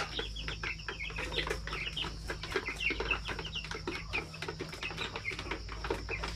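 Native chickens on a farm clucking repeatedly at close range, with scattered bursts of clucks and calls and occasional wing flaps, over a steady low background hum.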